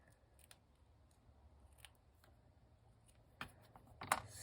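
Scissors snip a little off a sealed fabric edge, two quiet close cuts near the end after a stretch of low room noise.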